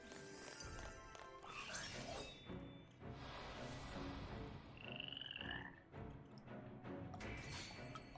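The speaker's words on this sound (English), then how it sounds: "Frogs." Frog enemies in Final Fantasy 13 croak over dense game music and effects, with a few drawn-out calls standing out against a busy, loud, steady backdrop.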